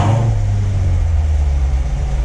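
A Corvette Grand Sport's exhaust in sport mode with baffles open throbs with a deep, steady idle rumble, loud and close, lightly louder at the start before settling into an even burble with no talk.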